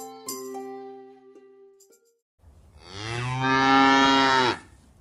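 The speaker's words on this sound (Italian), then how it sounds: "Sembra un muggito." A white bull lets out one long, low, bellowing moo, near and loud. It rises out of a quiet stretch after some soft, sustained tonal notes and lasts about two seconds before cutting off.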